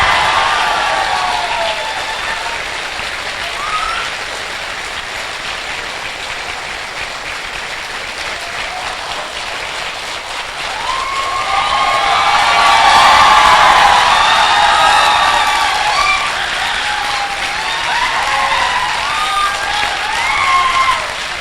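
An audience of students at a motivational talk in Patna applauds and cheers, with steady clapping that swells into louder whoops and shouts midway and then settles back into sustained applause.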